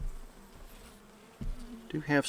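Honey bees in an open hive affected by dysentery give a faint low hum that swells into a closer, louder buzz in the last moments.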